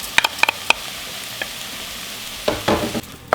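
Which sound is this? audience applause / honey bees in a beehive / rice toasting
rice toasting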